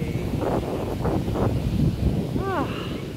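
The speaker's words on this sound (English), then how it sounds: "And it's so windy today." Wind buffets the microphone on a sunny beach in Boracay, a steady low rumble that lasts throughout, while a person talks over it.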